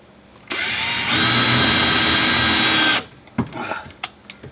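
A power drill driving a screw into a wooden floor board inside a camper van, one loud sustained whir of about two and a half seconds that rises in pitch, then stops, followed by light clunks and handling knocks.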